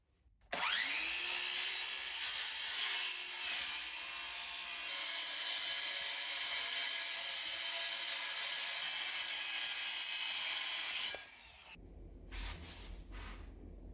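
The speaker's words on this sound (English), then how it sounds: "cut that on the skill saw" Skill saw cutting a piece of hardwood flooring: the motor spins up sharply, then a loud, sustained whining cut for about ten seconds, then it winds down, followed by a few faint handling knocks.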